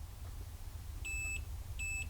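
Homemade SNES-controller laser pointer circuit giving short high electronic beeps as its switch is pressed, two separate beeps roughly three-quarters of a second apart, faint over low background hum.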